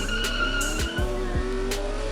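Hot Wheels toy cars, a Lancia and a Monte Carlo, race down a drag track, producing a steady rolling rumble with sharp clacks and brief thumps as they drop down the hill.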